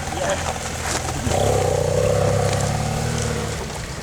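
A BMW F800GS motorcycle ridden offroad, its engine swelling into a louder sustained drone mid-way before easing off, with wind and rumble throughout and a voice briefly heard.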